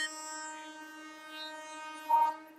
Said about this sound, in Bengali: এইসব ইন্টারাপশন আছে। ট্রেনের ইন্টারাপশন, নানান রকমের শব্দ।